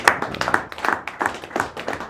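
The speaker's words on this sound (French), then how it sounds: "Cela mérite d'être applaudi quand même." An audience claps after a speech, with a few hands sounding fairly close. The claps come in an uneven, pulsing rhythm and never build into a full roar.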